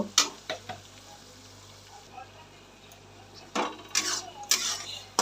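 Onions sizzling in a pan for a spicy home-style chicken dish, a steady low frying hiss broken by sharp bursts of stirring and utensil scrapes against the pan.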